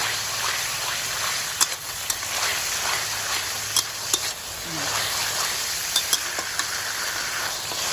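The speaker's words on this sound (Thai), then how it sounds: "เริ่มติดแล้วเราต้องคนให้ทั่ว" Long bean red curry stir-fry being stirred in a hot pan, with a steady broad sizzle throughout and scattered sharp utensil scrapes and taps against the metal.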